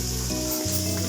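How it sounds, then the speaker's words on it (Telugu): Onions and green chillies fry in oil in a kadai, giving a dense, loud, unbroken sizzle with a steady low hum beneath it for about a second. "ఒక కడాయి పెట్టేసుకొని అందులో ఆయిల్ వేసేసుకొని ఆనియన్స్, పచ్చిమిర్చి అన్నీ వేసేసుకోవాలండి."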